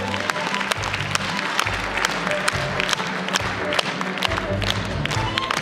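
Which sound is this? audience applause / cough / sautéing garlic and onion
audience applause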